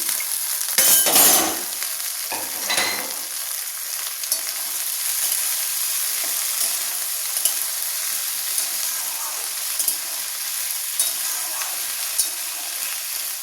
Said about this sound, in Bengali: পেঁয়াজ আর আলু একটু হালকা ভাজা হয়ে গেলে আমি দিয়ে দিচ্ছি এবার কেটে ধুয়ে রাখা ডুমুরগুলো।